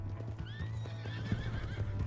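A horse in Red Dead Redemption 2 neighs with a long whinny over quick clip-clopping hooves, close and fairly loud, with a steady low hum underneath.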